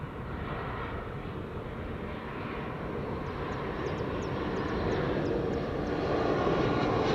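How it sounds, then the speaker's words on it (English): A KLM Embraer 190 jet arriving at Amsterdam Schiphol from Prague roars steadily overhead as a broad, continuous engine rush that gradually grows louder, with no talking. "This is KLM flight 1352 arriving from Prague in the Czech Republic. Embraer 190."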